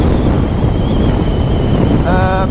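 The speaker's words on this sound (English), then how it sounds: "You get a lot of wind from the front because this windscreen actually pushes all the wind onto you." Head-on wind roars steadily into the microphone while a NEXT NX2 (2024) electric scooter rides at high speed behind its windscreen, a loud, constant rush with a faint electric whine running through it.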